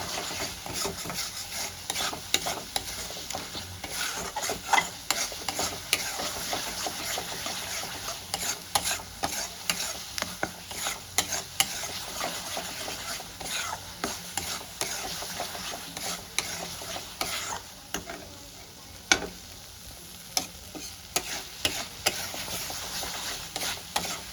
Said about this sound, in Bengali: মশলাটা আমি ভালো করে কষাবো যতক্ষণ না মশলা থেকে তেল ছাড়া